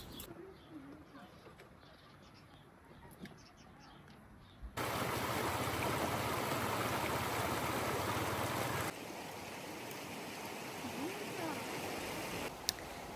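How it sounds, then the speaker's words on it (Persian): A river flows beside a family day out grilling fish, its steady rushing wash swelling loud for several seconds before easing, while pigeons coo and small birds chirp faintly around it. "رسیدیم به رودخونه"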